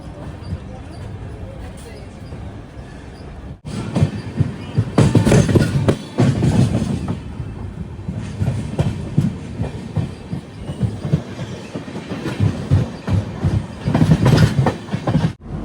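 The Gurudev Express runs on rails with a loud, steady rumble and clickety-clack of wheels over joints, rising sharply after a quieter start, with occasional squeals and a voice partly audible.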